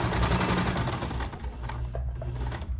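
Sewing machine topstitching a seam on a hygiene kit, running in steady rapid bursts up close, slowing and easing off near the end.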